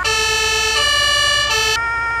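Loud fire engine siren in Farming Simulator 22, a close electronic wail whose pitch steps between tones twice before cutting off abruptly.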